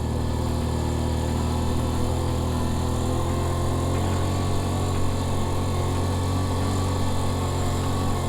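Motorbike engine working hard while riding off-road through sand, a steady buzzing drone held at an even pitch and loudness close to the microphone, with no talking.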